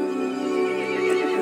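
An angry horse in Resident Evil Village lets out a loud, sustained, strained whinny lasting over a second, heard alone and close up without any talk.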